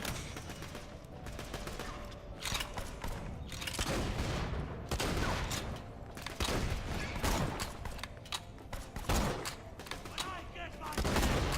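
Rapid gunfire in the video game Borderlands: The Pre-Sequel, a dense run of quick repeated shots with heavy bursts and booms, loud and continuous over roughly eleven seconds.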